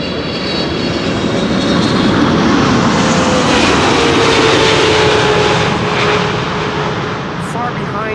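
A passenger airplane arriving at Amsterdam Schiphol Airport roars overhead with a loud, sustained engine rush and whining tones that swell and slowly fade, while a voice talks underneath.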